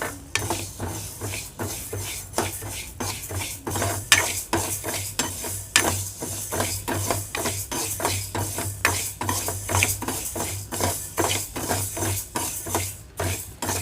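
Moong dal dry-roasts in a pan for payasam while a spatula stirs it in a fast, steady rhythm of dry scraping and clinking, close and continuous, with no voices.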